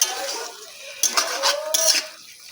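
A metal lid comes off a pot of simmering bean curry on the stove, giving a few close clinks and scrapes of metal cookware over a faint background hiss.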